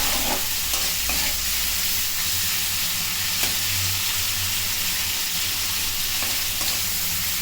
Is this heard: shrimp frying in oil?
yes